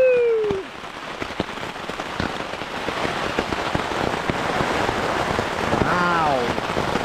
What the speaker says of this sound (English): It's just thunder and heavy rain.